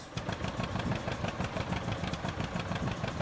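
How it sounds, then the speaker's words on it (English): Tractor engine in the Farming Simulator 19 video game running at a steady idle, a loud, continuous low throbbing rumble with regular pulses throughout and no voices over it. "Start up the little engine that could."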